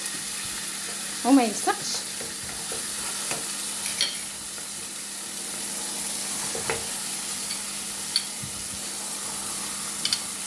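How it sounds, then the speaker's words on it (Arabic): Steak searing in a frying pan on reduced heat gives a steady low sizzle with occasional crackles and utensil clicks, and a brief voice comes in near the start. "غادي نشحر هذا الستيك هذا"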